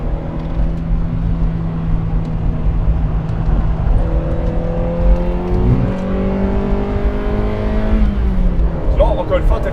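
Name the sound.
sports car accelerating on race circuit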